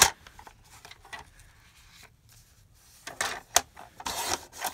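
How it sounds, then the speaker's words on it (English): The sealed bottom of a paper envelope is pried open up close, giving intermittent papery rubbing and tearing bursts between quiet gaps, louder toward the end. "Unsealing the bottom of the envelope."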